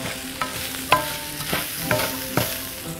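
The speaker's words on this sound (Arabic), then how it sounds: "هنزل بقى هنا الصلصة بتاعتي، معلقتين من الصلصة، وإيه هقلب تقليبة حلوة قوي" A spoon stirs tomato sauce into vegetables frying in a pan for vegetable paella, with a soft sizzle underneath and several distinct scraping strokes at a regular pace, close by.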